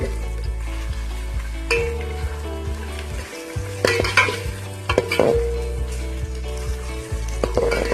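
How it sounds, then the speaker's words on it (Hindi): Onions brown in hot oil for chicken qorma, sizzling under repeated stirring scrapes and light clinks of a utensil against the pan. "प्याज को हम ऑयल में फ्राई करेंगे।"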